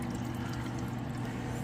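Water rushes steadily through a household pipe, a dense, unbroken hiss and gurgle at an even level with no talking.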